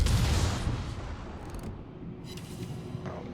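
Depth charges from the Omaha exploding in a naval video game, a heavy low boom at the start that rumbles and fades, followed by faint muffled after-rumble.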